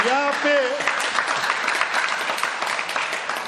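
Devotees clap together at a religious gathering, a dense, steady wash of applause filling the space, with a voice briefly sounding over the start before the clapping carries on alone.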